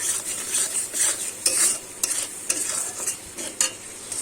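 Spices fried and stirred in a pan for potoler dorma, a continuous close sizzle with steady scraping strokes of a spatula and a few sharper clinks.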